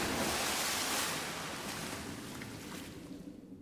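The River Thames at full tide below a window, a broad rushing wash of water that is loud at first and then eases and fades away.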